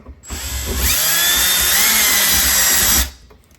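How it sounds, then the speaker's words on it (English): A power driver with a 1/4 inch drill bit whirs loudly and steadily for about three seconds, reaming a mounting hole for a battery tray, its motor pitch rising slightly as the bit bites, then stops abruptly. "I'm just going to take a 1/4 inch drill bit, put it on a driver."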